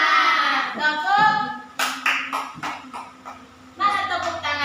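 Children clap their hands in a classroom, several short bursts of crisp claps in a brisk rhythm, fairly close and loud, with a teacher's voice and chatter running alongside.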